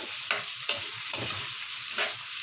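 Meatballs sautéing in a pan for shakshouka, a steady close sizzle broken by several rhythmic scraping stirs of a utensil against the pan.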